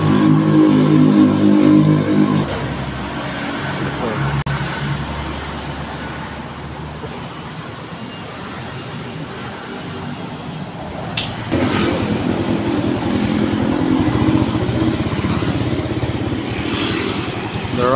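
A motorcycle engine revs loudly up close, drops to a lower idle for several seconds, then revs up again and holds a rough, throbbing tone.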